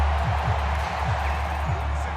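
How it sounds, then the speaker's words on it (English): Steady stadium crowd roar from a Madden NFL 24 football game between the New York Jets and Denver Broncos, a broad continuous wash of noise with no clear breaks. "this crowd is making an impact right now"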